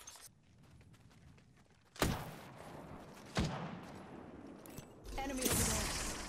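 Gunfire in Apex Legends, with a few sharp distant-sounding shots at separate moments, then a louder burst near the end, over quiet background game noise.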